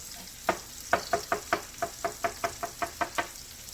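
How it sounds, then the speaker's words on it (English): A knife dices food on a cutting board with about fourteen sharp, evenly spaced chops, close and fairly quiet, with no talk. "we're going to finish dicing these"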